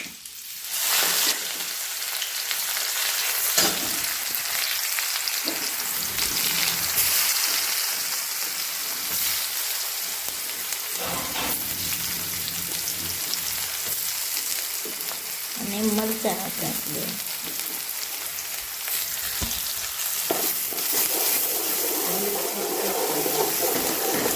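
Onion goes into hot oil in a pan with asafoetida for a spiced eggplant dish, giving a loud, steady sizzle and crackle that runs throughout with occasional stirring.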